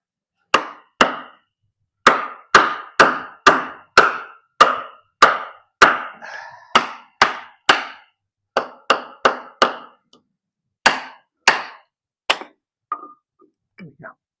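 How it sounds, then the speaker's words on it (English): A Lengren Persian Hunter knife in Sleipner steel is batoned vertically into wood near the thicker rear of the blade. Around twenty sharp, close wooden knocks come in uneven bursts with short pauses, then trail off into a few lighter taps. "But this one we will do the vertical. And I'm going to use the rear part of the blade where the grind is a little bit thicker."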